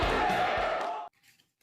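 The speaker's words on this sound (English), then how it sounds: "This crowd is going bananas!" A wrestling crowd roars loudly for about a second, a dense wash of cheering that cuts off abruptly into near silence.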